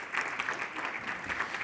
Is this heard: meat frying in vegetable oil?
no